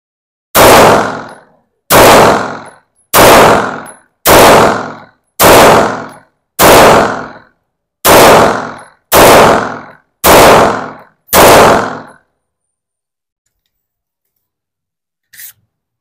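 A ZEV OZ9 V2 combat compact pistol fires ten loud, sharp shots at a steady pace of roughly one per second, each ending in a brief decay, then falls silent apart from one faint click.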